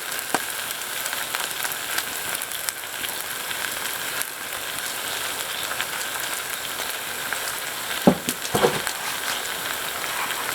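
Butter sizzles in a pan over a campfire while cooking fire-roasted garlic mashed potatoes, giving a steady crackling hiss throughout, with a couple of brief clanks near the end and no talking.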